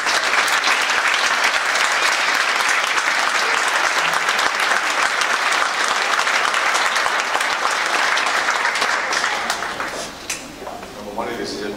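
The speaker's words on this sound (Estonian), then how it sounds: "teeme ka aplausi Mari-Liisile" Sustained, loud applause from a concert audience at a boys' choir spring concert, dense steady clapping that thins slightly toward the end as a few voices emerge.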